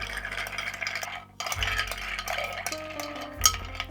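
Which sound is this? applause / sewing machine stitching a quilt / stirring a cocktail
stirring a cocktail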